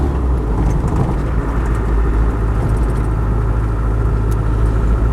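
A Land Rover 110 station wagon's 200TDi diesel engine runs on the move, a steady low rumble and drone from inside the cab with no voices.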